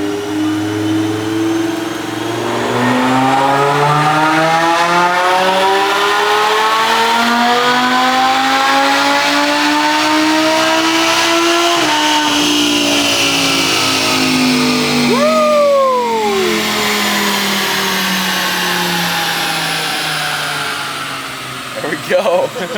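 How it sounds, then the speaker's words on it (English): A supercharged Lamborghini with a VF Engineering tune revs up in Strada mode on a dyno, the engine note climbing in a long sweep, dipping, then rising again before falling away, loud and close with a brief voice near the end. "first we're going to test in mode Strada to see if the horsepower numbers are any different"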